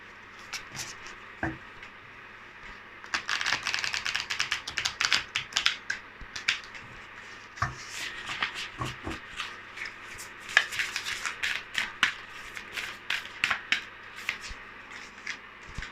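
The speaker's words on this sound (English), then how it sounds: "Let's pull some cards from the Sacred Traveler Oracle cards deck." Sacred Traveler Oracle cards shuffled and pulled by hand, producing close crisp riffling flutters and sharp slapping snaps in uneven bursts, with quieter gaps between handlings.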